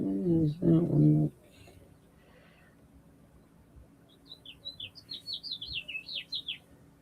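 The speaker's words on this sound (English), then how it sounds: "Oh, I love the sound of birds." Small birds chirp and tweet in a quick, bright run of calls through the second half, after a brief stretch of speech at the start.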